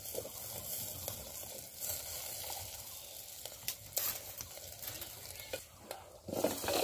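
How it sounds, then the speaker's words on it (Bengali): Vegetables and potatoes stir-fried in oil in a pan over a village clay stove, with a steady low sizzle under repeated scraping and stirring strokes, close and moderately loud, with no talking. "এই যে তরকারি তেলানির ভেতরে দিয়ে নেওয়া হলো।"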